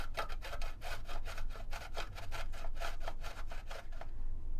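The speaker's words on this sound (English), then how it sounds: "now we're going to grate the courgette" Courgette rubbed on the thickest side of a kitchen grater, a quiet steady run of rhythmic rasping strokes, about a dozen in quick succession, close up with no talking.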